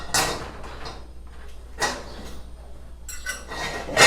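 Clattering of a metal pot lid and cookware while baking wine bread with gorgonzola, several sharp knocks and scrapes in a kitchen, with no talk.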